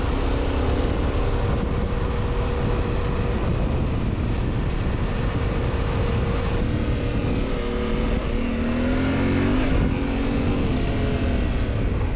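A Yamaha Tenere 700 adventure motorcycle riding on smooth, winding pavement, a steady engine drone mixed with dense wind rush, with a brief shift in pitch near the end.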